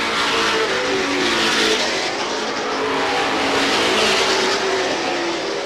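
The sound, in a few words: race cars on Star Speedway front straightaway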